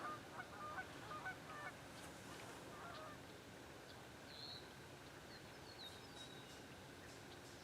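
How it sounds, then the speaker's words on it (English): Geese honk repeatedly in the distance over a steady outdoor background hiss, calls scattered and faint rather than close. "That's geese."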